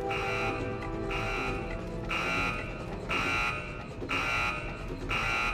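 Security alarm in Resident Evil 4 blaring in a steady repeating pattern, loud buzzing tones pulsing on and off roughly once per second throughout, with no voices.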